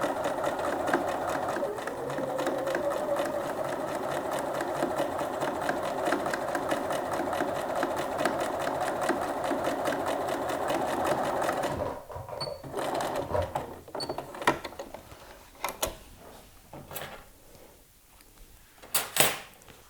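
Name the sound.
sewing machine straight-stitch topstitching jeans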